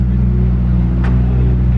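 A Ferrari F8 Spider arrives on a Monaco street with a loud, steady low engine rumble and a brief higher whoosh midway.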